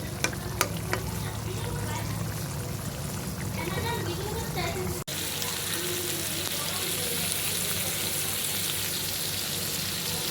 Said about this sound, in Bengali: মাছের ডিম আর আলু দিয়ে ভুনা করব, এর জন্য আমি মশলাটা কষাইতে দিচ্ছি।